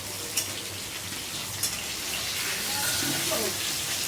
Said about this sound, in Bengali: এখানে আমি আলুটা ভাজছি